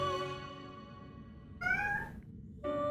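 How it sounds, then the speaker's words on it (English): A house cat meows repeatedly close by, drawn-out tonal cries in a row, heard over a quiet background during a live gaming stream. "Hold on, I'm supposed to ignore the cat."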